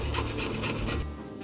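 Saw cutting through wood in rapid, rhythmic rasping strokes, close and fairly loud for about a second before stopping, with no voices.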